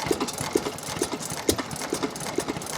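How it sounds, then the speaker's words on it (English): A vintage 5 horsepower Buzzacott engine, throttle governed and run on petrol, runs at an outdoor engine rally, its even clip-clop firing beat repeating roughly every half second at moderate loudness. "It's a 5 horsepower buzzer cot engine, petrol throttle governed."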